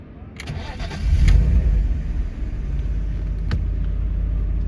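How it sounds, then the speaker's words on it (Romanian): A BMW E34 520i, non-facelift, cranks briefly and catches, its engine swelling loudly before settling into a steady, even idle, close by. "acum hai să vedem cum sună un E34"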